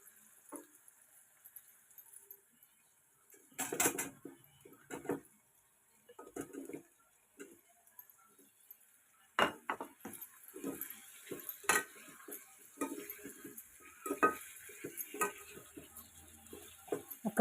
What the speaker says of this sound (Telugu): ఇప్పుడు ములక్కాయలు వేసుకుందామండి.